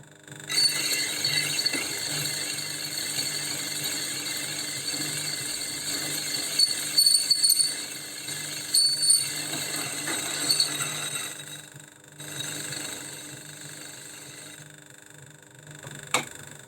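A Myford ML7 lathe takes a steady cut on a Jaguar XJ12 wheel spacer, giving a continuous whining, ringing machining tone with a few brief scrapes and a clack near the end.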